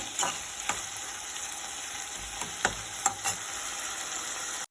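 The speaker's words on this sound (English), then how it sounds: "And we have to fry." Chana dal and other ingredients for hotel-style red chutney fry in hot oil, a steady close sizzle broken by a few clinks and scrapes of stirring.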